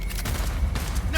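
A short burst of gunfire in the open-world shooter Cyberpunk 2077, heard as a few close, fast shots packed into about a second over a steady din of combat.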